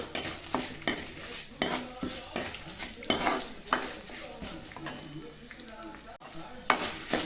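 Frying in a pan with frequent stirring: sharp spoon scrapes and clinks against the metal recur every second or so over a soft sizzle, close and fairly loud.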